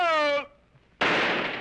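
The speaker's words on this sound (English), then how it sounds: "There goes that tire again. I heard a bang" A car tire blowing out in a 1941 comedy film: after a fading harmonic tone and a short quiet gap, a sudden loud broadband burst hits and rushes on like escaping air.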